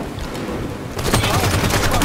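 Plasma weapon fire in Halo 5: Guardians, a rapid burst of repeated loud shots that starts about halfway through after a stretch of quieter game noise.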